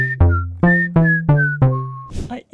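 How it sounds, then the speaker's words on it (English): A person whistles a melody with wide octave jumps, a run of about six clear sustained notes, each leaping between pitches, loud and close with no talk. "it's really hard to jump between different octaves when you are whistling"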